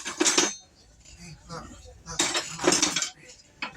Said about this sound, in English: I'm gonna grab me a little spoon